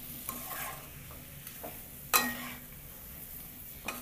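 A spoon scrapes and stirs pepper chicken in a frying pan with a soft sizzle underneath, one sharper clink of utensil on metal midway and a few lighter taps, close and fairly quiet.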